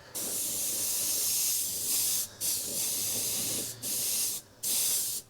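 Airbrush spraying paint onto a tree and moon landscape, a steady close hiss in several bursts separated by brief pauses as the trigger is released and pressed again.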